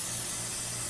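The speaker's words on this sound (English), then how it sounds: "I'm gonna spray the heck out of this thing." A steady hiss of an aerosol cooking oil spray runs for about a second, close and even.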